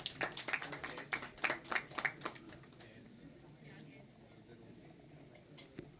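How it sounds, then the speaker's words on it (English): Scattered, sparse clapping from a small audience at a green mobility conference, several distinct claps in the first two seconds that quickly thin out, then quiet room noise with a faint late clap. "Can we have a huge round of applause for Mr. Sinha?"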